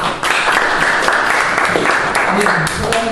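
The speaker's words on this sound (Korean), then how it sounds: "다시 한번 여러분 큰 박수 보내주시기 바랍니다" Audience applause following a Korean policy seminar presentation, a steady broadband wash of many hands clapping that fills the room throughout, with a voice speaking over it near the end.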